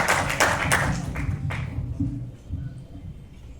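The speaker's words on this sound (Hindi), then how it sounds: "जोरदार तालियां।" Audience clapping for a poet at a Hindi Academy poetry gathering, a brief burst of hand claps near the start that thins out and fades within a few seconds, with low room murmur underneath.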